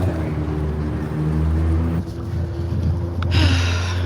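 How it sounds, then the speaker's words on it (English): Loud wind buffets the microphone in a continuous low rumble, with a steady hum underneath and a brief rustling burst near the end. "It's always so windy in this like area."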